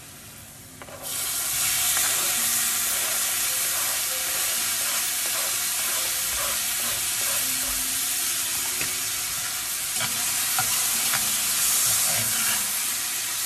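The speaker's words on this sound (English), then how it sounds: "we're sauteing it really well to a brown consistency" Chopped onions and red tomatoes sautéing in a hot pan for a roasted eggplant dish, a loud steady hiss that starts abruptly and carries repeated stirring scrapes and taps throughout.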